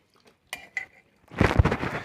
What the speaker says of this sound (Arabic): هنزل بشويه اللبن اهو.